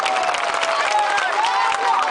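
Crowd applause and cheering at an outdoor political rally in Paliganj, a dense, steady wash of clapping and voices filling the whole moment at close, loud level.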